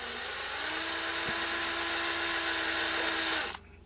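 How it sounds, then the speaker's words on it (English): A power drill with a 3/16 bit whines steadily for a few seconds close by, drilling out a hole in a drone, then cuts off abruptly into quiet. "I'm just going to slowly drill out that hole."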